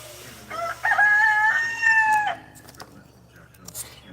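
Rooster crowing on a chicken farm, one long loud cock-a-doodle-doo up close, followed by quieter clucks and scattered bird calls in the background.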